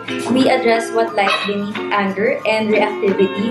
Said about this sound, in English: I'm sorry my dogs are being noisy right now.